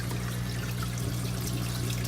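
Water trickles steadily from a filter pump into a small Petsmart 5-gallon desktop aquarium, a continuous close, even splashing hum with a low electrical drone and no voices.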